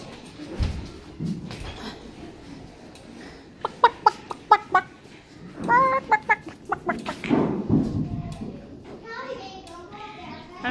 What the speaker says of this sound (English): They're new chickens.